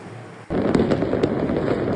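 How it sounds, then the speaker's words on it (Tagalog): Fireworks display in Italy, a sudden loud onset of dense crackling bursts and sharp pops after a quieter lead-in, continuing steadily with no voices. "Panoorin natin ang Italy fireworks"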